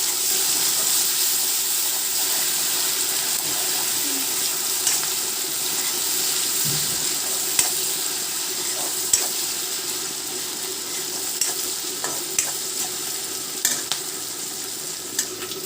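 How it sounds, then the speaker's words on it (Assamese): Onions with ginger-garlic paste and green chillies are stirred as they fry in a pan, with a continuous loud sizzle and scattered clicks of the spoon scraping the pan, no speech. "এতিয়া মই আদা নহৰু গোন্ধখিনি নোযোৱালৈকে লৰাই থাকিম"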